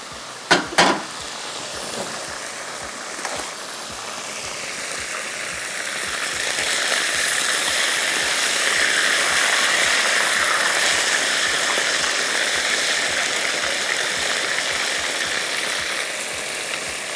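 Beef frying in a pan for black pepper beef: a steady, moderately loud sizzle with a few sharp utensil clinks near the start, then the sizzle swells and holds.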